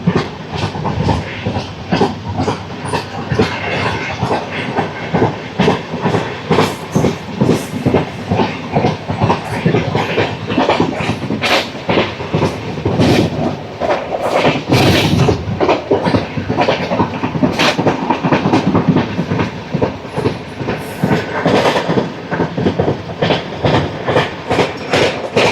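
Inside a second AC coach of the Tirupati–Secunderabad Padmavati superfast express, train 12731, the wheels beat out a rapid, unbroken clatter over the track joints near Pulicherla, over a loud, sustained rolling roar.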